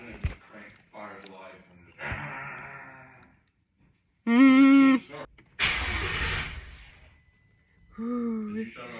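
A car engine cranks in short, loud bursts right after a Holley intake manifold install, a strained starter-driven churn that stops and restarts. People talk between the attempts.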